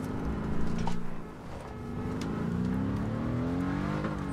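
A car in a battle royale shooter game, its engine humming steadily and close as it drives, easing off briefly before climbing back to a constant revving drone.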